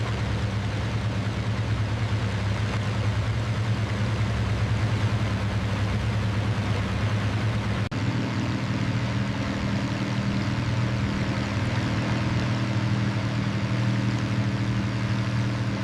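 Droning engines of a Junkers Ju 52 tri-motor transport plane run as a steady, dense, unbroken roar with low humming tones, close and loud throughout.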